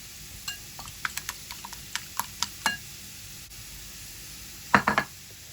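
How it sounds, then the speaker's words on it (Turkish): Finely chopped parsley mixed into eggs in a bowl, heard as a series of quick light taps and clicks of utensil against dish, with a louder cluster of scraping knocks near the end over a quiet background. "İnce ince kıydığımız maydanozları yumurtaya karıştıralım. İyice karıştıralım."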